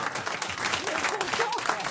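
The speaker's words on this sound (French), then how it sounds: "Les applaudissements sont très petits" Thin, sparse audience applause at a French television comedy show, a light patter of scattered clapping running steadily for a couple of seconds with voices mixed in.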